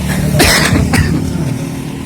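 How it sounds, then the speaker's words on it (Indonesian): A couple of sharp coughs stand out over a steady background of idling motorcycle engine rumble and traffic noise. "kayak batuk"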